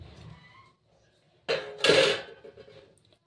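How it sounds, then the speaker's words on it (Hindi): Kadhi curry with pakoras stirred in a metal pot: a quiet stretch, then a burst of close clattering spoon-on-pot scrapes and clinks that fade out over a couple of seconds. "ये हमें चलाते रहना है करी को, करी को चलाते रहे चलाते चलाते बिल्कुल।"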